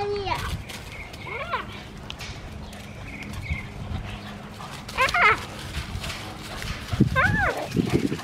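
A dog barks, yips and whimpers in short scattered bursts, fairly close, while people talk and move around over a steady background rumble.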